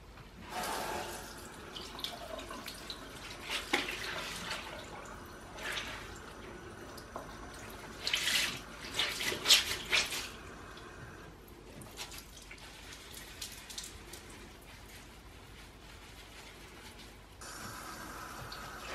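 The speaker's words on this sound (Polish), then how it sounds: "teraz spróbuję to spłukać wodą z jednej strony rękami" Water splashed by hand while rinsing lipstick off a face, intermittent wet sloshing and dripping bursts at close range, some louder splashes mid-way, no talking.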